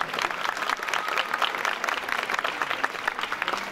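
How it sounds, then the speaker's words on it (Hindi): A crowd at a Passion of Christ performance applauds steadily for the whole team, dense rapid clapping held at a strong, even level throughout. "एक बार भरपूर तालियां पूरी टीम के लिए, बहुत सारी तालियां, बहुत सारी।"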